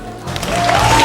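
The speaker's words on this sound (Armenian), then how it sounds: "Ընկեր Գրիգորյան, այս ծափերը ձեզ համար էին։" Applause for a teacher, Mrs. Grigoryan, at a school graduation ceremony, starting quiet then swelling into steady, fairly loud clapping from a gathered audience, with no speech over it.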